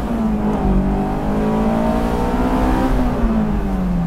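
Honda S2000 engine held near the top of its rev range for the VTEC band, a steady, loud high-pitched howl with a slight wavering pitch heard alone from inside or close to the car.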